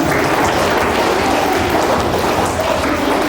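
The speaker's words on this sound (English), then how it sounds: "Clap for them." Loud, dense clapping from a school audience at an English festival, a continuous roar of many hands with no pauses.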